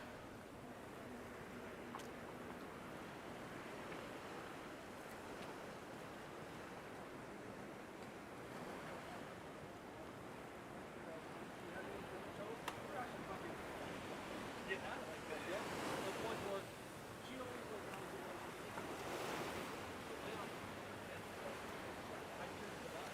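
Ocean waves wash ashore at Waikiki in Honolulu, Hawaii, a constant hiss of surf with wind buffeting the microphone and a slightly stronger surge partway through.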